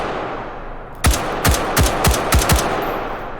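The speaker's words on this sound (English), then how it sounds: "Let's take some shots." M16 rifle fired in the H3VR virtual reality game, six loud close gunshots in a quick uneven burst over a second and a half, then a fading tail, with no speech.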